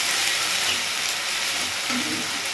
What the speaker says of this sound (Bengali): এটা একটু ভেজে নিই।